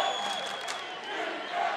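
A crowd comes alive at a women's Legends Football League game between the Western Australia Angels and New South Wales in Australia, a brief burst of cheering and shouting heard at a distance under a commentator's voice.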